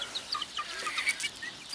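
Small rooster giving soft, scattered clucks and chirpy calls, fairly faint and close, in short irregular bursts against a quiet background.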